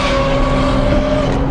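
A 1000-horsepower McLaren supercar engine roaring loudly and close, a brief sustained high-pitched drone.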